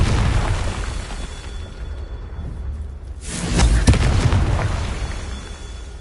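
A Confringo spell blast in the video game Hogwarts Legacy: a deep, rumbling explosion swells midway and slowly fades, with a broad crackling burst over steady low game ambience.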